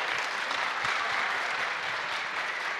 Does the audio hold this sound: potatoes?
no